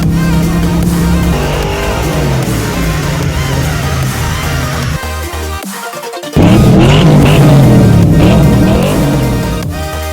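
A Ford Mustang Fox Body engine revs loud and close, holding a droning pitch, dipping briefly, then surging back harder and sustaining the rev.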